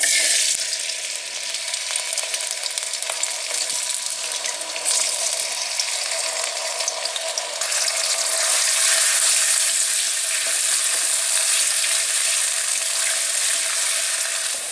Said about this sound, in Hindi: एक कढ़ाई में 1 कप ऑयल, उसमें प्याज कटी हुई